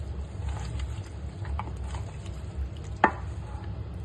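Chicken being mixed with an onion masala marinade makes soft, faint squelching and stirring sounds, with a quick sharper knock partway through.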